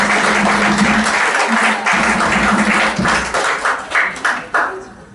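Congregation applause for a pastor during a Sunday church service, a full room of clapping that gradually breaks up into a few separate, louder claps as it fades out.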